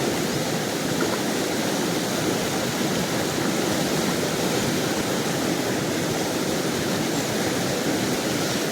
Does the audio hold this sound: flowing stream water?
yes